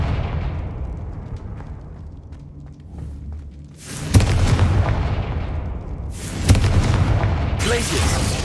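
Confringo blasting spell explosions cast in a video game, two loud booming bursts with a rumbling tail, the first after a quieter stretch of low rumble and the second following a few seconds later.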